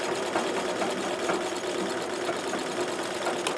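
A Singer 237 sewing machine runs a straight stitch with embroidery thread, giving a steady close mechanical whirr with a faint rhythmic ticking throughout.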